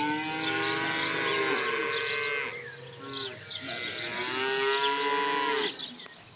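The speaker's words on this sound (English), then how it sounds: "farm has 230 cows" Dairy cows on a farm in Devon moo in long, loud, drawn-out calls close by, one low bellow following another with a short break between them.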